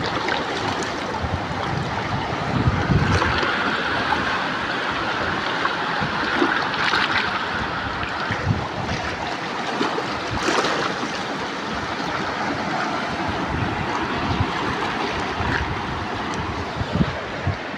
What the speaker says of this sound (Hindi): देख लो ना पानी भाई किस तरह के आवाज़ें आ रही है, गोली की तरह